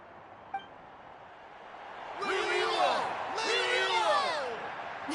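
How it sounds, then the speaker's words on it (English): A crowd cheers and whoops in the video game Genshin Impact, two swelling bursts roaring loud with bright whistling calls, after a brief clink near the start. "The exhilarating cheers of the crowd."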